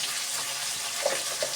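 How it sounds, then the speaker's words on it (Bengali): Spices with turmeric and chili powder are lightly fried in a pan, making a soft, steady sizzling hiss with a couple of faint pops. "এখন হালকা একটু ভেজে নেব।"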